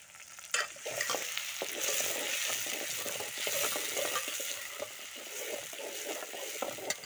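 Onions and green chillies frying in oil with salt, stirred with a spoon: a continuous soft sizzle broken by frequent scraping strokes and light clinks against the pan, with no talking.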